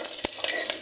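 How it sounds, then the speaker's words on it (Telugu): Tempering spices and curry leaves fry in oil for a tamarind rasam, making a continuous crackling sizzle with a few sharper pops, close and fairly loud, and no talk. "సో ఇలా పోపు మొత్తం ఫ్రై అయిపోయింది కదండి"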